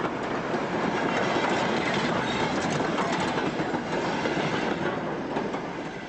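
Great Western Railway 2800 class heavy goods steam locomotive, number 2857, running on the Severn Valley Railway: a steady, loud, continuous rumble of the train with clickety-clack of wheels over rail joints, no voices.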